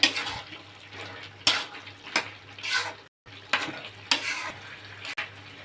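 Prawn and raw jackfruit curry being stirred in a pan after garam masala paste goes in, a close sizzle with repeated spoon scrapes and knocks against the pot, briefly interrupted once.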